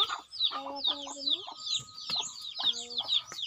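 Chicken and duck calls repeat in quick bursts, clucking fowl sounds mixed among chirps, fairly close and continuous.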